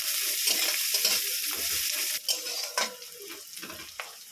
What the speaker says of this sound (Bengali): ভালো করে কষিয়ে নেব পেঁয়াজটা।